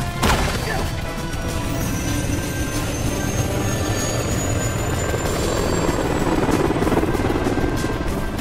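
A helicopter in the Disney Infinity 2.0 Spider-Man video game drones with a loud, constant rotor and engine roar, a sharp crash at the start, and a high rising whine over it.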